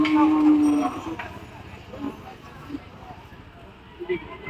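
A cow lets out a loud moo up front, then quieter crowd murmur and people talking amid livestock noise at a busy cattle market in Dholaikhal, Dhaka.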